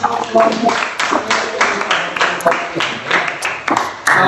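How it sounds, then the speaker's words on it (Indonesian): A classroom group claps together in a sustained, irregular burst of applause, close and fairly loud, with some voices mixed in. "Tepuk tangan sekali lagi."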